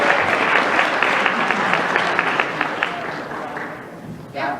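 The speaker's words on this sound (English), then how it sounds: "let's get one more round of applause for our guests" A crowd at the Animinneapolis 2018 anime convention closing ceremony gives guests a round of applause, a continuous, full wash of clapping that holds steady and tapers slightly toward the end.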